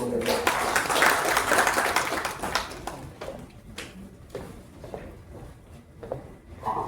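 An audience applauds in a hall, a dense burst of clapping that is loudest at the start and then thins to scattered claps and murmurs.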